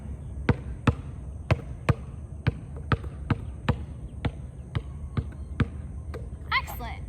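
A basketball is dribbled in place during stationary dribbling drills: about a dozen sharp, close bounces land at a steady, slightly uneven rhythm over a quiet room tone.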